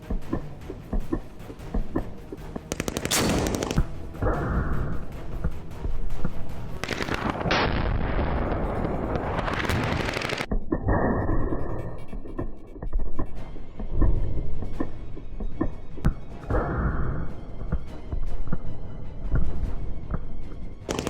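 SPG-9 recoilless gun firing outdoors, with a few loud booming blasts separated by stretches of rumbling noise and echoing aftermath, no talking.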